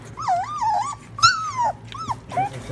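A dog whines and whimpers for puppy food, rising and falling high-pitched cries in several short bursts, close and fairly loud, with a low hum underneath.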